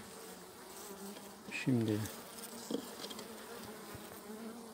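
Honeybees from a weak colony buzz during a hive inspection: a steady low drone fills the background, and a loud, close buzz swells for about a second as a bee passes near. A voice speaks briefly.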